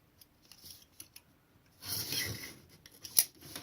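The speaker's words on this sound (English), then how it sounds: "This is why you have an X-Acto knife." An X-Acto knife cuts through a paper poster in a few quiet, brief scratchy strokes, then a louder rasping slice and a sharp snip near the end, close and faint, with no talking.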